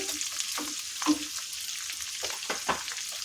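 Okra and green chilies fry in a pan for okra chutney, a steady close sizzle broken by several sharp scraping stirs of a spatula.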